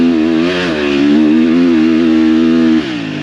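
A 250 four-stroke dirt bike engine runs wide open up a hill, a loud, close, steady buzzing drone with a strong harmonic whine, easing down sharply near the end.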